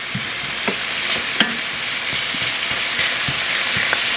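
Cabbage, yams and carrots sizzle steadily in yellowish olive oil in a pan, a dense, even frying hiss broken by a few faint clicks of a utensil against the pan.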